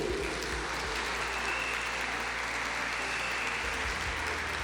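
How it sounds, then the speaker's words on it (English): Sustained applause from an esports audience at the Italian Esports Open 2017 after a lower bracket final, a dense steady wash of clapping with low rumble, continuous and fairly loud throughout. "can we have another round of applause for vo?"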